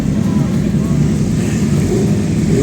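Suzuki racing motorcycles run up in a sunny paddock on track day, a loud continuous engine drone with rumbling low end and no breaks, heard up close.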